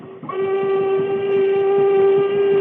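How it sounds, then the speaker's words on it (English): A sustained steam whistle blast from a paddle-wheel police launch, a loud, steady harmonic tone held for over two seconds over a low rumbling engine chug. "I'll try another signal on the whistle."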